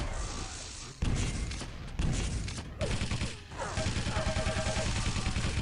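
Rapid gunfire and impact bursts from railgun shots in a KirbyCup 2016 arena shooter match, loud and continuous with dense overlapping blasts and a faint commentary voice underneath.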